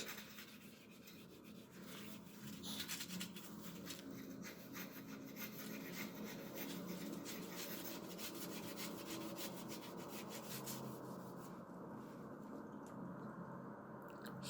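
Steady, continuous scratchy rubbing of folded sandpaper on a stained toilet stone, cleaning between its grooves, close and fairly quiet, running without pause and with no speech.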